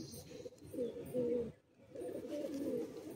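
Madrasi high-flying pigeons in a Kolkata loft coo in two close, soft rolling bursts with a short pause between, and no talk is heard.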